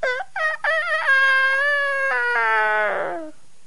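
A rooster gives its first crow of the dawn outside a government yamen, one long harmonic call that rises, holds and then trails off downward, close and loud with no talking.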